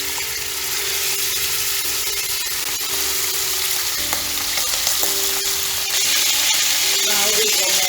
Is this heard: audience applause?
no